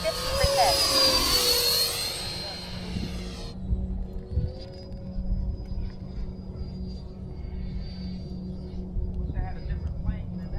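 A model airplane flies at an open field on a high-wind day, its engine whining loudly in a rising and falling pass at first, then fading into a thin distant drone while someone talks over wind noise.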